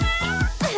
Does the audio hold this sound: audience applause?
no